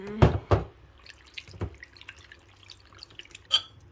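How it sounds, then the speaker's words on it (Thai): Fish being washed in rice-rinsing water for Thai fermented fish: a few close splashes and drips of water, sparse and irregular, with quieter trickles between and no voices. "เดี๋ยวเราจะเอาน้ำออก แล้วก็ล้างน้ำซาวข้าวอีกรอบหนึ่งจ้า"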